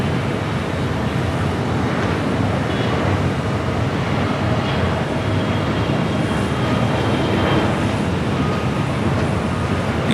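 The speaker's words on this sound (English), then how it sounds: "it is now starting to track a takeoff on the 25 right. A takeoff is a flight heading to Sacramento in the CRJ 700ER" A CRJ 700ER jet taking off from runway 25 right at Los Angeles airport, a loud, continuous broadband engine roar that holds steady throughout and stays strong and close.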